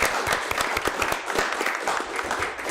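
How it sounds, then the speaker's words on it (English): A room applauds the Scottsdale team at a golf committee meeting, with dense, steady clapping from a modest crowd and a few louder nearby claps standing out. "I want to give them a round of applause"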